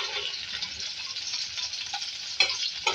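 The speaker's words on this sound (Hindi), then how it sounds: "इसमें ऐड करेंगे भिंडी ऑयल में और उसको पहले फ्राई करेंगे" Okra frying in hot oil in a home kitchen, a steady bright sizzle with faint crackles throughout and a couple of sharper pops near the end, no voices.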